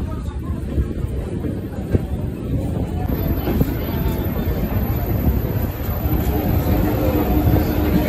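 A Kolkata to Darjeeling passenger train pulls away and runs along, heard from inside as a continuous low rumble and rattle with wind-like noise, steady and fairly loud throughout.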